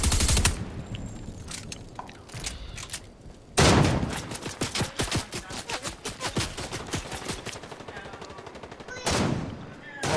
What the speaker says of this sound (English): I just emptied a clip into the bush, bro